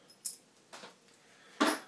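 Metal keys on a lightsaber-style tactical saber give three brief separate jingles, the last the loudest, with quiet gaps between and no voices.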